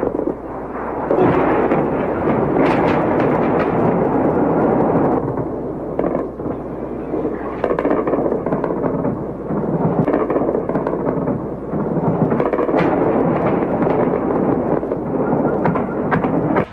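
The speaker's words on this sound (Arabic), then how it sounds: "انفجارات متواصلة" Rocket strikes set off a continuous barrage of loud explosions, dense rumbling booms and cracks overlapping almost without pause across the whole stretch.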